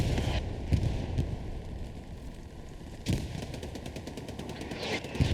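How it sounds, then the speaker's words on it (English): Machine gun fire from a World War II era tank battle in the competitive shooter game Hell Let Loose, rapid bursts cutting through a steady hum, with a few louder gunshot bangs and dense rattling volleys later on. "looks like a machine gun fire from Cheeses possibly"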